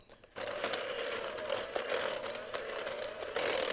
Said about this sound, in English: I found that the easiest way to get these potatoes mashed up is just to use a hand mixer.